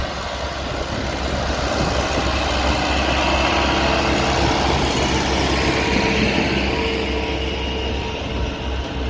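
Tractor engines run at a tractor fair in Azad Kashmir, with sand being cut nearby; a steady, loud broadband engine drone with low rumble fills the whole clip without letup.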